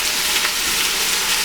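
Chopped onions frying in olive oil in a pan, a steady bright sizzle with soft stirring scrapes, close and continuous without talk.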